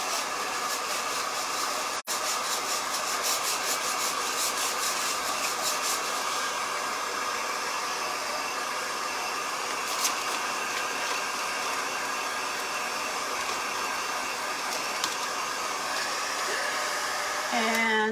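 A hair dryer blows steadily on freshly chalk-painted pieces sitting in a pan, its loud, even whoosh running almost unbroken from start to end with one brief cut.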